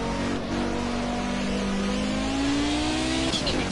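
An Audi race car in the Project Cars video game drives on its stock setup with smoking tires, its engine note holding a steady, slowly rising drone that fills the short clip at a constant loud level.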